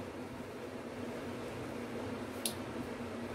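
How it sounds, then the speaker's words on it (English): Electric fan running in a bedroom, a steady low whooshing hum at a constant faint level, with one brief tap partway through. "I'm sorry if you hear the background noise. It's my fan in my room."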